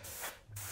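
Airbrush blowing air to clear dust from a die-cast model car, two short, close, quiet hissing bursts separated by a brief pause.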